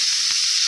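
Steady high-pitched sizzling of legumes, including black-eyed peas, dry-roasting in a hot pan, close and continuous, with faint stirring scrapes underneath.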